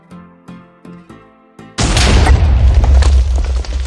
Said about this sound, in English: Wait, was that your fireball?